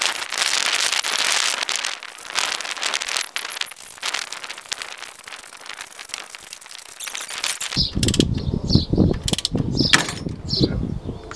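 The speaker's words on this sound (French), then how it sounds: "du coup ça a explosé le roulement" Car wheel bearing forced out of a hub with a puller, giving rattling, ratcheting metallic clicks and scraping, then a sudden burst of loud clattering as the bearing breaks apart, close up.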